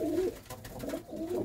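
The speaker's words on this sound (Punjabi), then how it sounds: "ਕਬੂਤਰੀ" Pigeon cooing close by, with two soft rolling coos separated by a brief pause, fairly quiet and alone.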